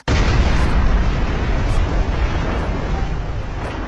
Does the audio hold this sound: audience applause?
no